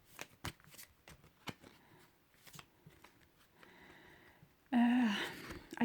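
Tarot oracle cards from the Wisdom of the Hidden Realms deck being shuffled by hand, a run of soft riffling flicks and slides close by, ending in a louder, denser burst of shuffling.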